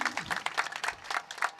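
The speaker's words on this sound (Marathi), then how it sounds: "टाळी वाजवा हो" Audience applause at a kirtan, a Marathi devotional storytelling performance: a crowd clapping in a steady, rhythmic beat, loud and close, with a voice briefly heard underneath.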